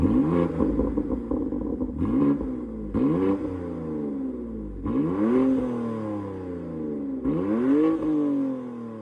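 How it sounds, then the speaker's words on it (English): Several sharp revs from a stationary 2026 BMW M2 CS with an aftermarket exhaust rise and fall in quick succession, each blipping up loudly then dropping back, with a throaty exhaust rumble throughout. "a little more volume and excitement sitting here revving"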